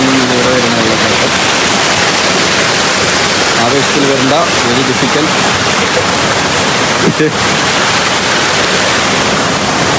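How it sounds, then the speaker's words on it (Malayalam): A hidden waterfall at Madayipara roars as a dense, constant rush of falling water, close and loud, with voices speaking briefly beneath it. "ഇതിലൂടെ വന്ന് അതിലൂടെ വന്ന് ഇവിടെ വരുന്ന വെള്ളച്ചാട്ടം"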